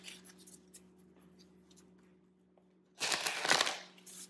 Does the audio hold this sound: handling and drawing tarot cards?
yes